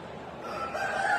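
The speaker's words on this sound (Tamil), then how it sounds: "இங்க ஒரு சேவல் டெம்போக்கில் படுத்திருக்காரு" A rooster crows once, a short rising call heard close and fairly loud against light background noise, with no one speaking.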